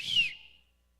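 A person whistles once like a referee: a single sharp, high whistle at close range, bright and loud at first, then trailing off over about half a second, with no talk.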